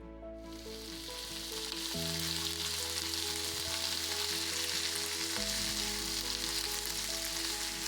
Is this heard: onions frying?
yes